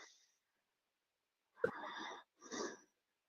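A few heavy breaths close to the mic: a short exhale, a pause, then two loud, rough breaths in quick succession.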